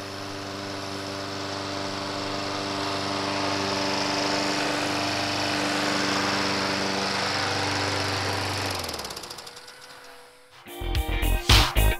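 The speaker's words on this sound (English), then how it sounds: "Just finished mowing." A lawn mower cuts wet grass with a loud, steady close-up engine drone for about nine seconds. It then winds down and stops, followed by a few sharp clanks.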